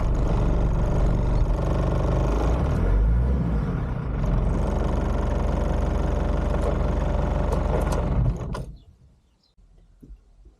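A camper van's diesel engine runs after a glow plug start, a steady loud rumble with a mechanical clatter for about eight seconds, then cuts off into near quiet with a few faint knocks.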